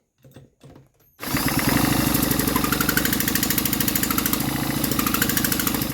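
A 62cc Chinese chainsaw engine with no piston rings is spun over, giving a loud, steady rapid ratcheting chug that starts abruptly after a few quiet knocks and continues evenly to the end.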